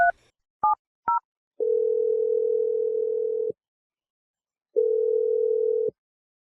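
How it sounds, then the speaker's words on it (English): A telephone dialing a number gives a few short keypad tones followed by two long, steady ringback tones separated by silence, clear and close. "I'm dialing his number right now"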